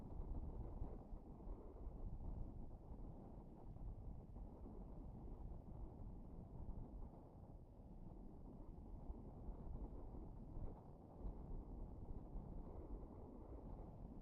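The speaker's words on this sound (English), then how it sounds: "continues to remain blustery here at the press site and around the" Gusty wind buffets the microphone at a rocket launch press site on the Space Coast, a steady low roaring rumble that swells and dips throughout with no voices.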